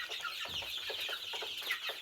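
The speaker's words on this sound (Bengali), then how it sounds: "একদম সুস্থ, 4টি ভ্যাকসিন করা মিশরীয় ফার্মি মুরগি" Egyptian Fayoumi chickens, healthy and vaccinated, clucking steadily together at a farm, with several birds making overlapping short clucks in a continuous close chorus and no talk.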